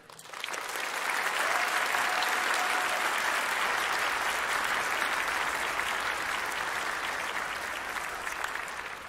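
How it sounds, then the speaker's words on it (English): A large audience at a school winter fine arts festival claps steadily in a dense, sustained round of applause, holding at an even level for the whole stretch with no talking. "I'd like to recognize with a round of applause"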